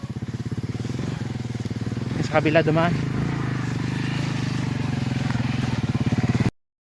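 Motorcycle engine putters steadily and close on a rough rural road in Barangay Haba, Candoni, with a brief rattling, crackling burst midway; someone talks briefly over the engine.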